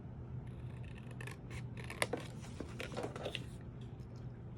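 Paper snipped with scissors while making a Jane Eyre keepsake journal: a close run of quick, crisp cuts in an irregular rhythm, heard alone without talk.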